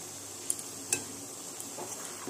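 Spices with turmeric frying in a pan, a quiet, steady sizzle broken by a couple of sharp metallic clinks of a spoon against the pan, heard close with no voices.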